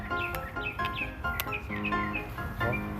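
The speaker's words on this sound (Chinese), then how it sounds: "听到鸟叫就愣住。" Birds chirp and tweet in repeated short bursts outdoors during a morning walk with two energetic dogs, the calls fairly clear and steady over a continuous background murmur.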